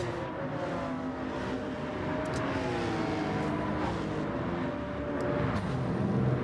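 Race cars roar past at speed on Grand Valley Speedway in a sustained, loud rush of engines with shifting pitch as they fly by.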